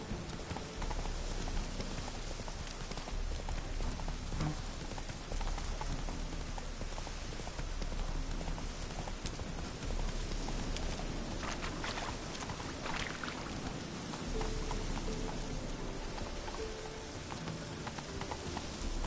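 In the video game The Witcher 3, the horse Roach gallops through rain with a steady clip-clop of hooves under a constant hiss of rainfall, moderately faint throughout.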